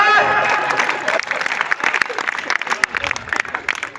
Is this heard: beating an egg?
no